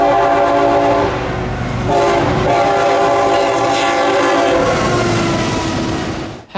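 A CSX freight train led by a CPKC Tier 4 GEVO locomotive rumbles past close by on the Garrett Subdivision, with a loud sustained roar, a multi-tone horn sounding through most of the pass and rail clatter underneath.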